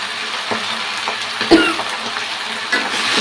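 Greens and spices sizzle in a hot pan while being stirred, a steady loud frying hiss with a few soft scraping clicks of the spoon against the pan, and no talk.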